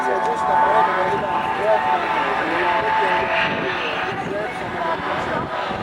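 An F-18 jet preparing to land, its engine roar a steady, broad and loud wash throughout, heard from a distance with someone narrating over it.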